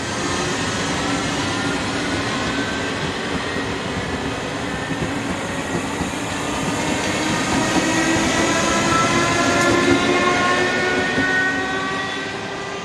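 A Class 642 electric multiple unit train passes close by with a loud, continuous rumble and wheel noise that swells slightly toward the end, with steady tonal whine layered on top and no talking.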